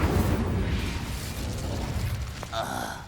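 Incendio fire spell cast in Hogwarts Legacy on PS5: a loud, continuous roaring burst of flame that fills the full three seconds, with a brief crackling flare near the end.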